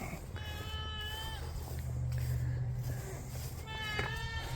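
Young goats bleating in short, high wavering cries, a couple of calls near the start and end over a low steady hum.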